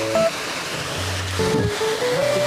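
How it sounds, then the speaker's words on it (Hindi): A running farm tubewell gushes water into a large concrete tank built like a swimming pool, making a loud, continuous rushing roar with faint tonal hums over it. "स्विमिंग पूल जैसा, काफ़ी अच्छा, और ट्यूबवेल चल रही है। इसका पानी आपको दिखाते हैं यहाँ पे।"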